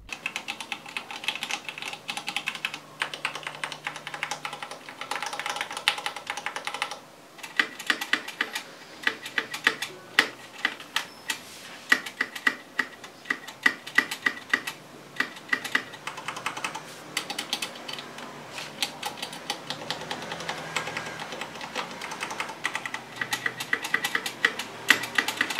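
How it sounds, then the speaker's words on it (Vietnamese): Typing on an IKBC KD87 mechanical keyboard produces rapid, irregular clacking keystrokes in bursts with brief pauses, close and crisp, with no one speaking. "Nó cũng chính là chiếc bàn phím mà mình đang sử dụng để viết ra cái bài review này luôn."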